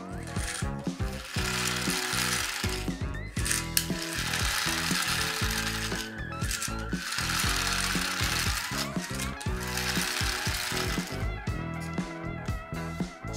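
A battery-powered toy rocket car with lights runs across a hard floor, giving a loud, continuous mechanical ratcheting whir with rapid gear clicks that carries steadily for the whole stretch, with no talking.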